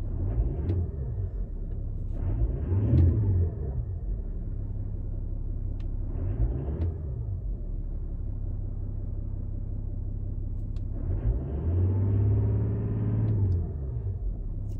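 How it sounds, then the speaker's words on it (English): Toyota LC300 turbo-diesel with a 3.5-inch stainless steel DPF-back exhaust revving, heard from inside the car: a deep idle rumble with several swelling revs, two short blips early, then a longer, louder rise near the end. "Turn the radio off and let's give it a bit of a rev."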